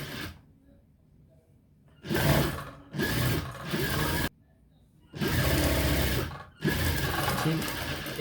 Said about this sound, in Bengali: ঠিক এইভাবে উপর থেকে নিচ পর্যন্ত পুরোটা সেলাই করে দিবেন।